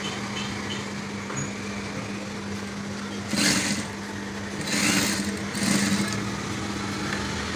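Sewing machine stitching a waistcoat lining whirs at a steady hum, with three short louder bursts of running stitches close by, and no talking.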